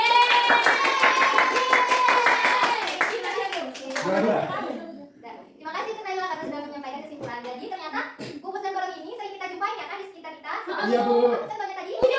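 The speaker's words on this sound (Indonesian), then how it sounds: "Ya, oke, beri tepuk tangan." Children in a primary-school classroom break into rhythmic clapping with their voices mixed in, during a micro-teaching lesson on cube and cuboid volume; the clapping fades after a few seconds and a teacher and pupils talk.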